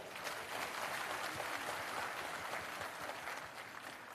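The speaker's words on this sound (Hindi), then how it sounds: "एक बार अपने लिए जोरदार ताली बजाएं" Loud, steady applause from a crowd, a dense wash of clapping that holds evenly for the whole stretch.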